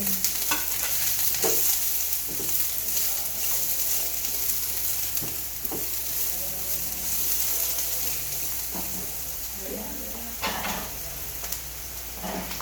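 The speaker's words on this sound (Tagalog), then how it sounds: "Magisa tayo ng sibuyas. Then, tinagyan natin ng luya, bawang, sili" Onion, ginger, garlic and chili saute in a hot pan, a steady sizzling hiss running throughout with intermittent stirring scrapes and clatters of a utensil, close and fairly loud with no talking.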